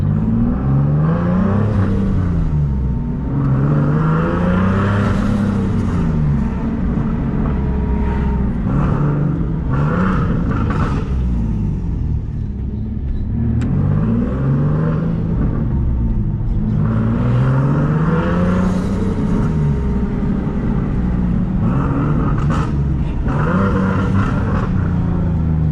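A boosted Nissan 370Z accelerates hard down a street, its engine roaring and rising in pitch through repeated gear pulls, loud and close with no talking over it.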